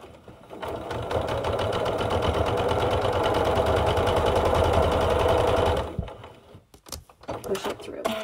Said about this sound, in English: I sewed all those together and nothing shifted